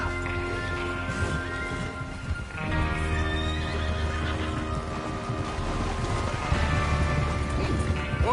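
Horses whinny and neigh loudly over a dense game soundscape in Red Dead Redemption 2, with hooves clip-clopping and gear rattling as a gang readies its mounts for a train robbery.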